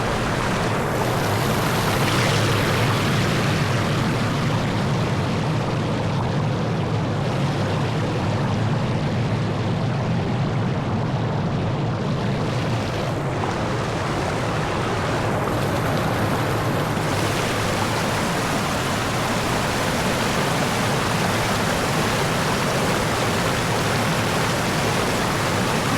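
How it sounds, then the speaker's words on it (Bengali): Flowing river water in Pahalgam, Kashmir, a loud, close, constant rushing roar that stays unbroken throughout with no voices. "জলের সাউন্ডটাকে ফিল করো"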